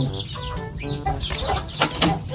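A native hen clucks noisily at close range on a Philippine farm, giving a rapid string of harsh, squawking calls with a few louder bursts. There is no talk.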